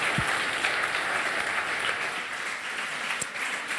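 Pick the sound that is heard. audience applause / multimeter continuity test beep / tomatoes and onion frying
audience applause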